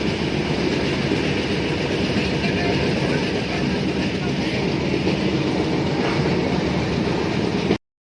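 A passenger train, the Saraighat Express from Howrah, rumbles along steadily, a loud, continuous rolling roar heard from inside, cutting off abruptly at the end.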